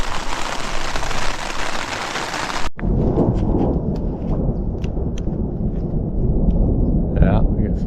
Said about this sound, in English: we got some thunder showers rolling in.